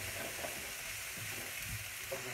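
Surimi quiche filling frying in a pan, a steady close sizzle with occasional stirring scrapes throughout, no voices.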